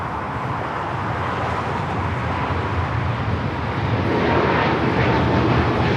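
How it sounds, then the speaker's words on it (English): A Boeing 777 freighter rolls for takeoff on runway 25 right at LAX, a broad, steady engine roar heard from a distance that swells slightly louder toward the end, with no voices. "The 777 freighter now rolling down to 25 at right."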